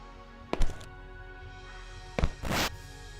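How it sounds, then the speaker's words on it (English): Two dull mechanical thunks a couple of seconds apart, the second followed by a short hissing whoosh, over a low steady hum. "that was the door opening"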